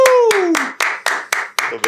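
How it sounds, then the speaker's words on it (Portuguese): Hand claps welcoming a pastor onto a podcast stage, a few sharp, evenly spaced claps following the tail of a spoken voice, close and fairly loud. "Aplausos!"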